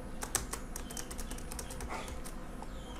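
Keys on a computer keyboard clatter in a steady, close run of typing and deleting, quick irregular taps continuing throughout without any talking.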